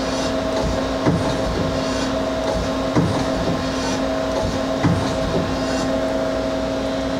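Turret indexing on a Doosan Puma V-550 vertical turning center, heard as a steady mechanical hum with a few sharp clunks roughly every two seconds, close and fairly loud.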